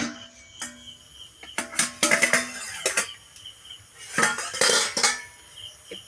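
A metal lid lifted and shifted on a pot of steaming pitha, giving several clattering metallic clinks and scrapes in bursts, close by, over a faint background with insect chirps.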